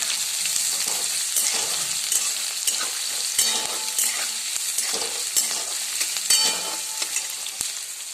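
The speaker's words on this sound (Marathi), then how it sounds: "तो पण छान असा लालसर आपल्याला तळून घ्यायचा आहे या तेलात" Onion sizzles and crackles steadily in hot oil for upama, with occasional scrapes and stirs of a spoon in the pan, loud and close with no talking.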